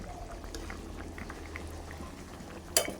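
Fish and potato curry simmers in a pot with a soft, continuous bubbling hiss, faint and steady, ending with a sharp clink of utensil against metal.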